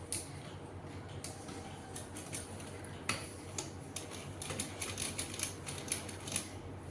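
A sewing machine stitching piping onto a suit gives off faint, quick mechanical ticks and clicks in uneven clusters, quiet and close, with no talking.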